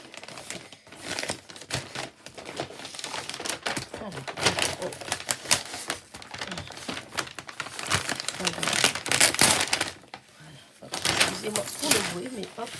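Paper wrapping from a parcel is crumpled and crinkled by hand, loud crackling bursts coming in irregular waves close up, with someone talking in between.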